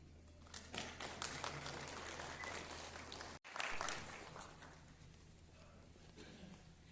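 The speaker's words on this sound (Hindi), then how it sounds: "एक बार जोर से ताली हो जाएगी" Audience in an auditorium applauding at a legal awareness and medical camp, a dense patter of many hands clapping that briefly cuts out, resumes strongly, then tapers.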